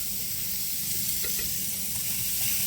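Ground beef browning in a dry skillet with no oil, a steady, dense sizzle and hiss heard close up without pause for a few seconds, alone with no voices.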